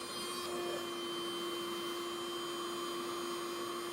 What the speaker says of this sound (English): She'll rub it around very gently with a white cloth and then brush it into a little pile and vacuum it